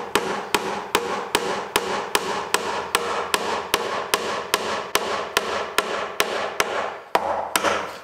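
A hammer taps wooden wedges into the joints of a frame, ledge and brace wooden side gate door, about nineteen sharp, evenly spaced knocks in a steady rhythm, loud and close, with no talking.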